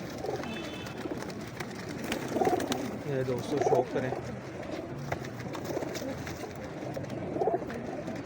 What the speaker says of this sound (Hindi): एक से एक कबूतर है।